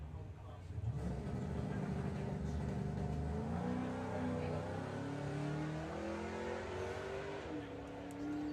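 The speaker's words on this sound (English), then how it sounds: "Michael Franklin with the Range Rover, 1735 his dial-in. And Troy Attree with the Camaro" A Range Rover and a Camaro launch side by side at a Santa Pod Raceway drag race, engines roaring and rising in pitch through the gears as they accelerate away, loud and sustained with commentary-style talk underneath.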